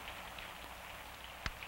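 Rain falls steadily outside as a faint, soft patter on surfaces, with one brief sharper knock near the end.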